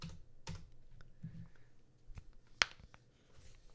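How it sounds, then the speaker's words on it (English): Fast typing on a computer keyboard gives quiet, scattered clicks and taps up close, with one sharper louder keystroke near the end and no talk. "if I'm typing really fast"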